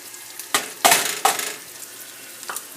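Half a cup of chopped onions sizzles in hot vegetable oil in a pan, with a few sharp bursts of frying that flare loudly and then settle into a faint crackle.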